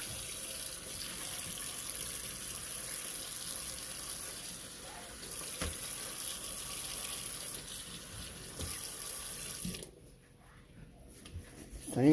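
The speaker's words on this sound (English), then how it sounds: "We're just gonna give it a quick rinse." Butterflied mullet rinsed under a running kitchen tap: a continuous soft hiss of flowing water splashing into a sink, fairly faint and steady, cutting off near the end.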